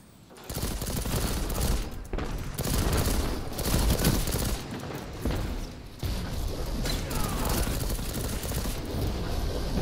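Rapid-fire pulse rifle bursts in a first-person multiplayer shooter match, loud dense volleys of gunfire with brief pauses and in-game effects, continuous over the whole stretch.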